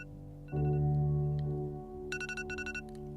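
A phone alarm ringtone rings steadily and loudly, a sustained electronic melody with strong harmonic tones, then shifts into a rapid pulsing chirp pattern near the end, playing alone without voices.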